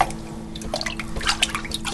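Freshly made cottage cheese curd is dipped and swished in a bowl of water to rinse out whey, giving close, soft splashing, dripping and sloshing that comes in irregular bursts with no talk.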